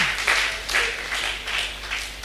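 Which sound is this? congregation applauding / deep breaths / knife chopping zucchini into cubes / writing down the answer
congregation applauding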